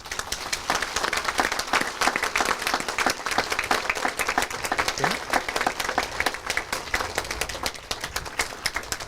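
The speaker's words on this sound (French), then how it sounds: "On peut les applaudir." Sustained applause from a crowd at an outdoor citizens' rally in Neuilly-sur-Marne, dense and steady clapping throughout with faint voices mixed in.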